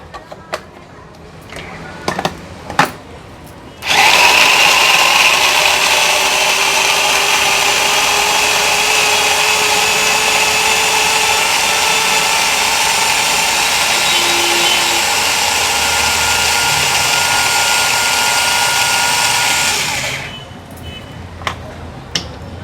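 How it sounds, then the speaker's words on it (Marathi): An electric crusher grinds garlic, ginger and green chili in one steady, loud whirring burst of about sixteen seconds that starts abruptly and stops abruptly, with a few faint clicks and knocks on either side. "माझ्याकडे हा क्रशर आहे म्हणून मी हा क्रशर यूज करते"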